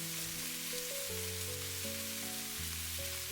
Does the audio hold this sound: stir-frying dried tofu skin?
yes